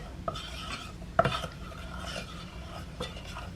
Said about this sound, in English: Then we're going to add the tablespoon of sugar and give it a mix.